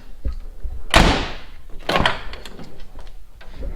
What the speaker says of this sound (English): That's the best this door has ever closed.